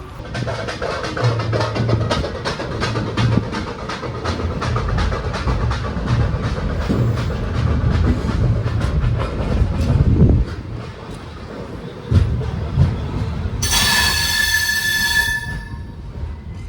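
The Cholan Express rolls steadily along the tracks into Thanjavur railway station, rumbling with repetitive wheel clicks, then a high metallic squeal rises near the end.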